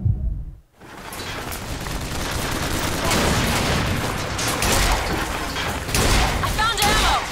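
Rapid gunfire and loud shooting in Bioshock Infinite's combat, dense and continuous after a brief quiet start, with bursts and thuds throughout and people talking over it.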